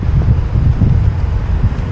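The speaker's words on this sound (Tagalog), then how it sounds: "ang lakas ng hangin" Strong wind buffeting an outdoor microphone in Taipei, a loud, continuous low roar with gusty surges and no voices.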